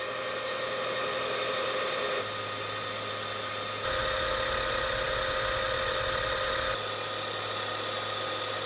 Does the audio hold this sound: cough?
no